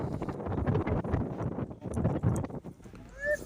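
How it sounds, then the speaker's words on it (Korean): Rough, gusty wind buffeting the microphone outdoors in Africa, loud and uneven, with a faint voice underneath. "오늘 또 바람이 많이 부는군요 바람 소리가 거칠어요"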